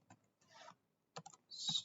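Typing on a computer keyboard: a few short, quiet bursts of close keystrokes separated by silent gaps, with a quicker clatter at the end.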